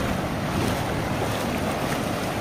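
Sea waves wash onto a sandy beach in Maharashtra, India, a constant broad rushing wash mixed with heavy wind buffeting the microphone, with no voices.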